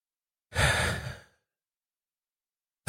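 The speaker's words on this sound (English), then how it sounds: "Nice deep breath." A single deep exhaled breath, a soft close sigh lasting about a second, followed by silence.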